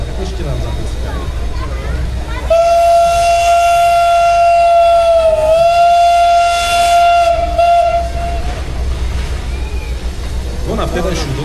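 A steam locomotive built in Budapest in 1896, with three coupled axles, gives one long, loud, steady whistle of about six seconds that bends slightly midway, with crowd chatter around it.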